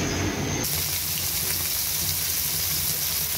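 Koi fish frying in hot oil give a steady, dense sizzle that carries on without a break, loud and close, with no talking.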